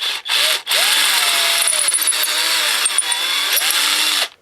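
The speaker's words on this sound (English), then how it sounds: "These are still so corroded that I'm going to run the drill through them." A power drill whirs loudly and close up, running through corroded bolt holes on a Tecumseh HSSK50 engine, its pitch sliding up and down under load with brief pauses.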